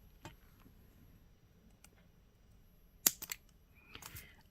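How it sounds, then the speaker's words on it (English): A single sharp snip of wire cutters through jewelry wire for tree-swirl earrings, followed by a couple of small clicks and a faint metallic rustle in an otherwise quiet room. "So we're going to cut this right here."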